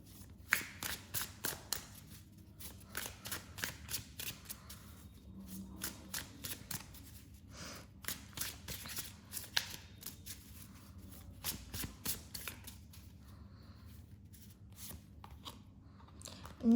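A tarot card deck is shuffled by hand in rapid bursts of crisp riffling and flicking, repeating in quick rhythmic clusters at close range with no speech.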